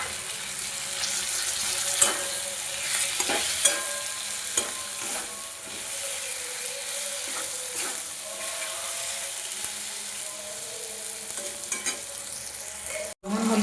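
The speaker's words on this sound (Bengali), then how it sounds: "মটনের পিসগুলো দিয়ে দেবো" Mutton pieces frying in mustard oil for a winter mutton ghugni, with a steady crackling sizzle throughout and a few sharp knocks of stirring, close and fairly loud, with no talk.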